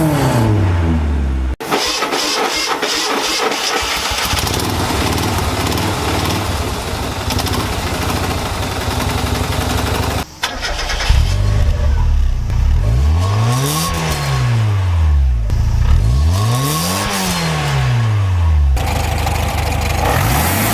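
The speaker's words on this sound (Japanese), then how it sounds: "エンジン音聞き比べ、どれが一番好き？" Four different car engines heard in turn, each starting and revving loudly, with rising and falling rev sweeps and steady idling between them, close and without talk.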